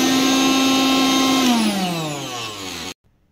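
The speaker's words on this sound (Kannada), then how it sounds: "ಹುರಿದಿರೋ ಗೋಧಿನ ಮಿಕ್ಸರಲ್ಲಿ ಹಾಕಿ ಹಿಟ್ಟು ಮಾಡಬೇಕು." A kitchen mixer grinding roasted wheat into flour, a loud, steady whirring hum close by that winds down in pitch as the motor slows, then cuts off abruptly into silence.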